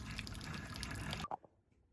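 Pink antifreeze running from a travel trailer faucet during winterizing, a steady close flow of liquid that cuts off abruptly, followed by a few faint drips.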